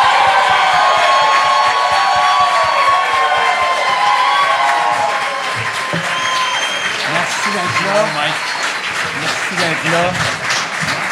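Audience applause and cheering greet two comedians at a live comedy show in Quebec, steady and loud throughout while someone speaks over it, with voices growing more prominent in the second half.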